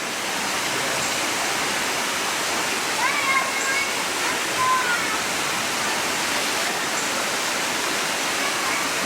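Water flowing beside a jungle trail in a tropical botanical garden near Hilo, Hawaii, a steady broadband rushing like a stream or small waterfall. The sound is continuous and even, with a few faint bird chirps above it and no talking.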